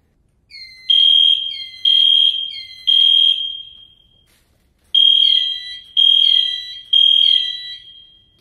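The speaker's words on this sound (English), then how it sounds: "Sometimes, a drill is signaled solely by the fire alarm." School fire alarm sounding for a fire drill: loud repeating electronic horn blasts, three in a row, a short gap, then three more, alone with no voices.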